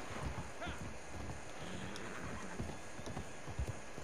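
Horse hooves clip-clop in a video game, a steady run of close, moderately loud hoofbeats over wind-like ambient noise, with brief voices mixed in.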